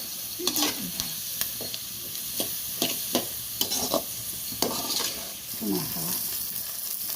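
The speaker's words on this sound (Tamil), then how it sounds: "இன்னும் கொஞ்சம் நேரம் நல்லா வதக்கணும். அது எண்ணெயிலே தான் வேகணும்." Pirandai (adamant creeper) sizzles in oil in a pan while a spoon stirs it, giving a steady fry hiss broken by repeated scraping strokes, close and without talk.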